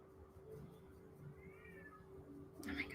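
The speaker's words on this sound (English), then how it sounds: "They meow so loud." A cat meows indoors in an artist's studio, one faint drawn-out meow over a steady background hum, followed by a sharper louder burst at the end.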